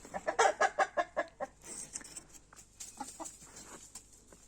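A broody hen clucks rapidly at close range, a quick run of loud clucks fading into softer, scattered calls.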